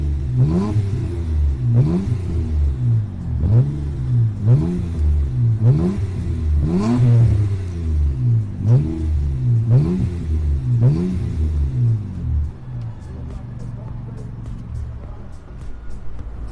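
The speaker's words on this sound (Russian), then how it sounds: "Звук на данном автомобиле вышел приятным, бархатистым." A Nissan Maxima A33 with a 3.0 V6 and a stainless steel exhaust fitted with a 102 mm tip revs repeatedly in a rhythmic series of rises and falls, loud and close, before settling to a smooth idle.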